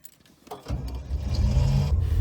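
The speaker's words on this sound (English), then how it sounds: "Start the car." A manual transmission car's engine cranks and catches about halfway through, then settles into a steady, close, rumbling idle that continues to the end.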